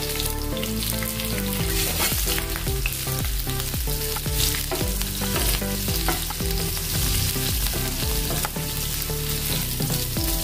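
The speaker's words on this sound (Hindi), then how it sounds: "तेल गरम हो गया है, आधा चम्मच मैंने इसमें जीरा डाला है।" Cumin seeds and green chillies fry in hot oil in a pan for an aloo lauki sabji, giving a loud, continuous crackling sizzle close up with steady spitting pops throughout.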